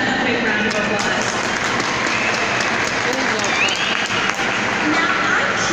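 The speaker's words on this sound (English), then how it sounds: "Let's give them a quick round of applause." An audience at a zoo dolphin show claps in a steady, dense round of applause that fills the whole stretch, loud and close, with crowd noise mixed in.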